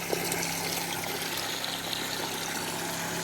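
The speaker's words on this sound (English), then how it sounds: "As you can see, it's just dumping water right back down into the bucket." Water from a soft wash proportioner pump pours steadily back into a bucket, a continuous splashing rush with a faint mechanical hum underneath.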